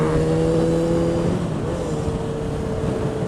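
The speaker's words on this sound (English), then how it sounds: "I'm going to miss that sound until I change the exhaust on my new bike." A Yamaha XJ6 Diversion F motorcycle with an aftermarket exhaust revs, its engine note holding a steady drone that dips and settles, loud and close, with no talking.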